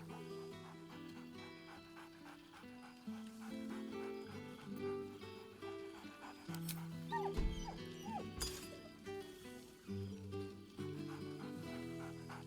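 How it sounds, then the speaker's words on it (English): Scratch the dog barking in Baldur's Gate 3, a few brief yips and barks rising out of a steady, busy music bed, fairly faint and mixed under the score. "Scratch barks merrily in something like agreement"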